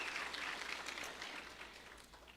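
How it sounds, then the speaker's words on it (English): A crowd applauds a contestant at a Cherokee Little Ambassador competition, a steady wash of clapping that holds for a couple of seconds and slowly fades, heard somewhat distantly with no voices over it. "we give contestant number 2 a round of applause?"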